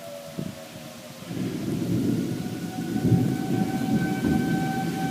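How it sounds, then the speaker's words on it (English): Heavy rain pours down during a tornado storm in Jackson, Missouri, a dense rushing roar that swells after a quieter first second, with a distant siren tone faintly holding underneath. "Now the heavy rain."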